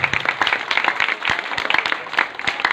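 A church congregation at a bishop's service claps in a steady, close burst of applause with crisp, uneven hand claps throughout and no talking.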